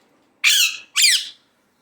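Pet talking parrot squawking indoors, two loud, harsh, close squawks in quick succession, each about a third of a second long, separated by a brief pause, with no voices.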